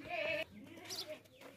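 A long-eared male goat at a livestock market bleats loudly and close once, a wavering nasal call, followed by quieter calls and animal noise.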